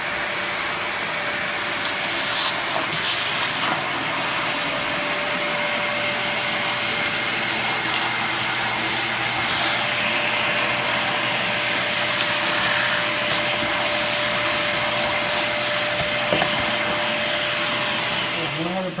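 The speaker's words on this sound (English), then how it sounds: "Got the vacuum up there, and you got to clean it off really good." A vacuum cleaner drones steadily up against drywall on a ceiling around a leaking window frame, a continuous close whine with small scraping and bumping noises as the nozzle moves over the surface.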